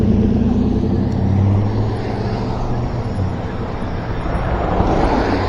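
A black truck rumbles past an e-bike rider on the road, its engine loud and close at first, then fading under heavy wind buffeting on the microphone.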